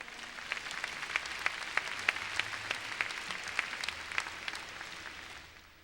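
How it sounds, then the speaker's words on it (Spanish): A church congregation bursts into steady applause, dense and moderately loud with a few sharper claps standing out, then tapering off near the end. "Denle un aplauso a Cristo, hermano mío."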